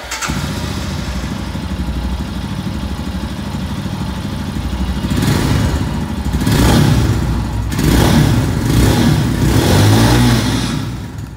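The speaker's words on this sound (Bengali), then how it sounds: "স্টার্ট করি উইথ দিস স্ক্র্যাম 411।" A Royal Enfield Himalayan Scram 411 motorcycle idles loudly and steadily, then its single-cylinder engine is revved in several sharp throttle blips that swell and fall back to idle, close to the microphone.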